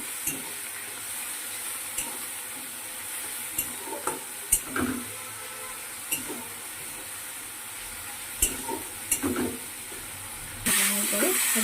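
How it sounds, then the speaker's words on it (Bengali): Prawns frying with onions in a pan give a steady sizzle, broken by repeated scraping stirs of a spatula, and a louder hiss flares up near the end. "পেঁয়াজটা ভাজা ভাজা হয়েছে, এবার চিংড়ি মাছটা দিয়ে দিল,"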